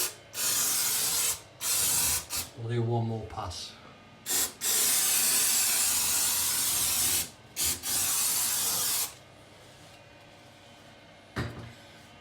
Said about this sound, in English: where is it? Multi-Solve spray.